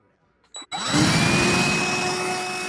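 A vacuum cleaner switches on after a couple of brief clicks and then roars loudly and steadily right beside the microphone, a broad whooshing motor noise with a high whine running through it.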